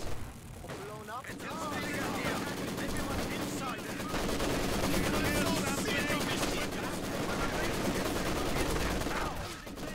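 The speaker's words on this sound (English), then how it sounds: "Notice how well my machine guns are doing and helping me maintain map control right now" Sustained machine gun fire in the Company of Heroes 2 strategy game, long loud bursts of rapid shots with explosions mixed in, under a speaking voice.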